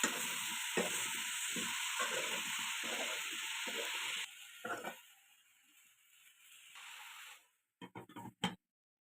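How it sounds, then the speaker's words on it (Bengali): Cauliflower cooking in a pan in an Assam village kitchen sizzles steadily at first, then fades to a quieter hiss, ending in near silence broken by a few sharp clicks and knocks. "একদিকে আমি ফুলকপি রান্না বাইছি"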